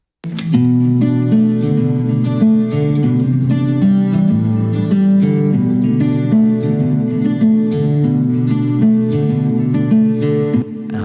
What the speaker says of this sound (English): Later on in the song, a steel string pair of guitars joins it.